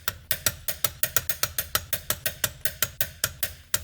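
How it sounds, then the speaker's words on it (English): A ratcheting torque wrench, set to 90 foot-pounds, tightens a wheel on a 2012 Subaru Impreza, giving a rapid, steady run of sharp metallic clicks close by, about four or five each second, with no talking. "grab your torque wrench. Set it to 90 foot-pounds or 120 newton meters"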